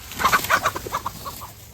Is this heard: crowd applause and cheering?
no